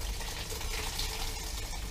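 Grape must from a Sangiovese ferment pours steadily from a basket press through a sieve, a constant close liquid rush with no talking.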